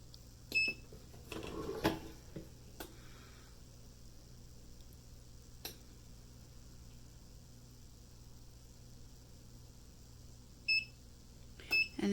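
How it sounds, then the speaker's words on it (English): Short electronic beeps from a Suncoo heat press machine signalling the end of a press cycle on heat transfer vinyl and wood, heard as a few brief tones near the start and two more near the end over a quiet room hum. "And it beeps."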